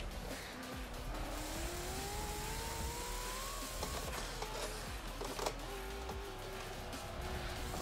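Racing engine sound from Forza Motorsport 7, with a Chevrolet Bel Air among the cars, steady droning engine tones rising in pitch as the cars accelerate, with tire noise throughout and no talking.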